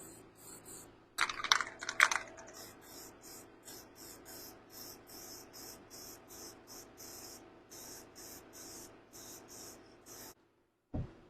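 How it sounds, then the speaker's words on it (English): An old can of Permatex copper coat aerosol hisses in short, regular bursts while gaskets are sprayed down. A few scraping handling noises come early, and the spraying is steady and close with no voices. "This is how I spray my gaskets down. Just get the copper coat, Permatex."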